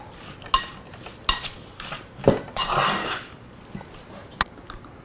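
A spoon stirs roasted curry powder into oil-free Sri Lankan chicken curry in a pot, making a few scattered scrapes and clinks against the metal with brief louder knocks, close and alone.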